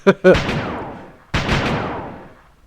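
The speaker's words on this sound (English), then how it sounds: "It's gunfire! Someone suddenly started shooting." Two loud gunshots ring out about a second apart, each with a sharp crack followed by a long echoing decay, with no talking.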